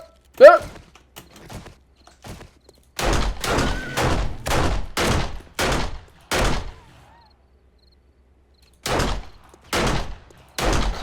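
Gunfire in 7 Days to Die (Alpha 16) comes in sharp, loud shots, first a few scattered, then a rapid run of about eight, a two-second pause, and three more.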